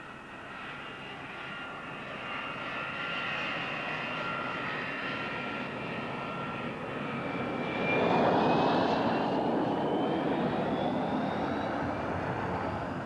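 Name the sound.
RAAF Mirage IIIO jet fighter taxiing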